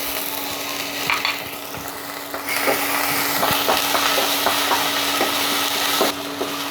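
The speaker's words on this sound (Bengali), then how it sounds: "আমি একটা প্যানে খুবই সামান্য তেল দিচ্ছি, আর এখানে দিয়েছি 1 চা চামচ কম আদা এবং রসুনের পেস্ট" Ginger-garlic paste sizzles in a little oil in a pan, a steady close hiss of frying broken by light scraping stirs and occasional clicks, with no talking.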